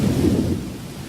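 A low, rumbling roll of thunder that swells and then fades away within about a second.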